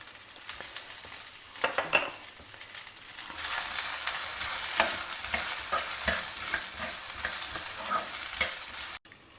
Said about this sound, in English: Stir it all well together.